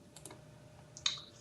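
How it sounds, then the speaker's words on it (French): Computer keyboard and mouse clicks while playing a game, a few quiet taps followed by one sharper, louder click, close to the microphone with no talking. "je suis désolé d'avance s'il y a des bruits"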